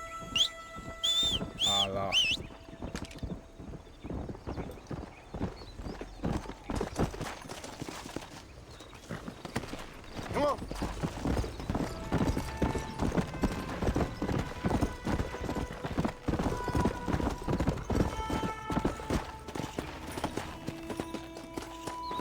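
A horse's hooves clip-clop in a steady walking rhythm through the Red Dead Redemption video game world, loud and close, with brief whinnies and whistles near the start.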